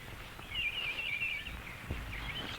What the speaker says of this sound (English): That sounds like a mockingbird.